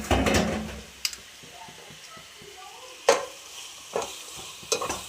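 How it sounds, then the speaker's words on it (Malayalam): Tomato, onion and coriander leaves are stirred in a frying pan: a loud sizzle at the start settles under a handful of sharp spatula scrapes and knocks against the pan, close by, with no speech. "തക്കാളി, സബോള ഇട്ട് കൊടുക്കുന്നത്, മല്ലിയില ഇട്ട നന്നായി ഇളക്കി കൊടുക്കുന്നത്"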